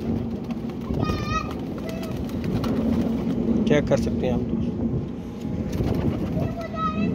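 Flying pigeons brought from Kasur coo softly a few times while someone talks over them, with faint children's voices and traffic in the background.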